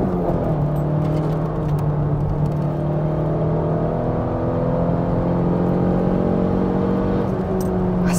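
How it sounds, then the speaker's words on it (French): A car's engine hums and whirs steadily as it drives and accelerates through curves, a close, constant drone with rising tones from inside the vehicle. "la voiture, on la sent qui part bien dans les courbes"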